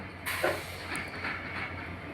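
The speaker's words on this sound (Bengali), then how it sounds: "ট্রেন অলরেডি চলে এসেছে স্টেশনে ঢুকছে" Chilahati Express train pulling into a station on the Natore line, a steady broad rumble and hiss of the arriving carriages, fairly loud and continuous with faint squeals and rattles.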